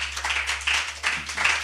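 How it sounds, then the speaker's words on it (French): A church congregation claps together in sustained, uneven bursts of applause that swell and dip, with no voices heard over it. "j'aimerais qu'on applaudisse aussi Jésus pour nos fidèles internautes"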